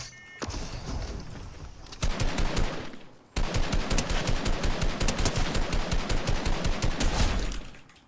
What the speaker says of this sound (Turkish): Tek atan pompalı zannetip bir tane vuruyorum ya. John Wick pompalısıymış.